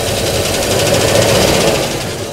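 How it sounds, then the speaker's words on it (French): A 1973 Citroën DS 23 IE Prestige engine runs rough on three cylinders, a loud steady idle with a rapid ticking clatter, close and alone with no talking. "Elle est sur 3 cylindres manifestement. Elle tourne très mal, elle cliquette."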